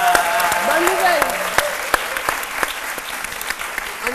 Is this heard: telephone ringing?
no